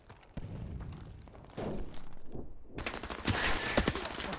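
Bursts of gunfire in the video game Crossfire, rapid shots and thuds coming in clusters that grow louder and denser toward the end, with no talking.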